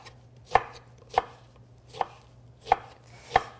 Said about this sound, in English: I can cut my lemon in half and then cut it into slices